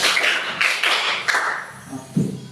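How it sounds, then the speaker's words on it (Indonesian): Schoolchildren clap together in a set rhythmic pattern, several crisp group claps spaced across the moment, close and fairly loud in a classroom. "Ya lagi, tepuk 4."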